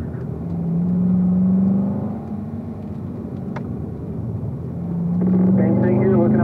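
A race car on the Spring Mountain circuit accelerates at full throttle, shifting from third to fourth gear. A loud, close engine drone climbs in pitch, eases back briefly at the shift, then builds and rises again.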